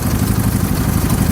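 A John Deere 316 tractor with a 16 hp Kohler engine idles with a loud, close, steady mechanical rattle and clatter over a low throbbing drone.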